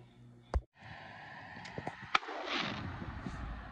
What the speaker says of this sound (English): That was a firework.